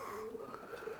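Racing pigeons coo in their loft, a soft rolling call repeated a few times close by over quiet background hiss.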